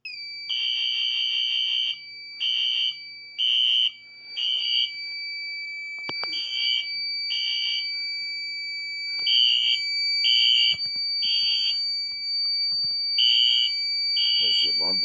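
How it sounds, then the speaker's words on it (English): An Uphope HC102 fire alarm sounds after a pull station is pulled: loud, close, high-pitched tone bursts repeat in a steady on-off rhythm, with brief handling clicks partway through. "So right now, I'm just going to pull the pull station. The alarm will sound."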